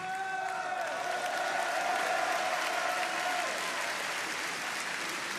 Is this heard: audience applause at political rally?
yes